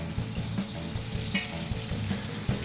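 Fish fillet searing in a hot pan, a steady, close crackling sizzle with small rhythmic pops and spits throughout.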